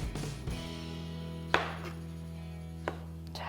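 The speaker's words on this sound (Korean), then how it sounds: "이렇게 각종 재료를 적당한 크기로 썰어서 모아주시고요" A knife chops ingredients for a Greek salad with black olives on a cutting board: a few soft, sparse knife taps over a steady low hum, fairly quiet.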